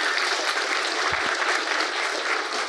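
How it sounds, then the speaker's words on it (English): An audience at an industry expo awards event applauds honourable mentions with steady, dense, loud clapping throughout, without pauses. "A round of applause for all those honourable mentions."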